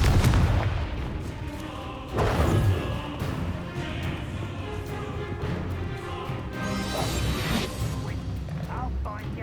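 Confringo fire spell explosion in Hogwarts Legacy, a booming burst with crashing debris amid ongoing combat noise and spoken voices, fairly loud and close.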